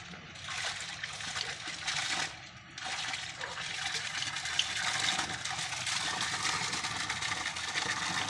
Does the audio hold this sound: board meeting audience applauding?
no